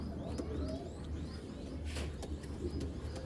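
A China Khaki female pigeon coos softly in low, rolling calls, faint and close, with a few higher chirps from other birds around it.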